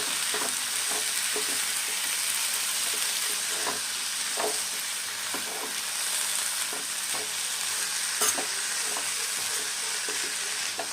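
Beans fry in a pan with a constant loud sizzle while a spoon stirs and mixes them, giving regular scraping clicks at a steady pace, with no voices.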